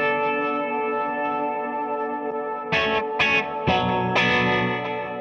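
An electric guitar plays through a Strymon Flint reverb pedal, a sustained chord ringing in a washed-out, echoey wash, followed by several struck chords that bloom and smear into long reverberant tails.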